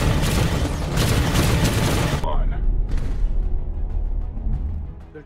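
Rapid bursts of heavy gunfire in the film Space Sweepers crash loudly for a couple of seconds, then cut off, leaving a rumbling, echoing tail that slowly fades.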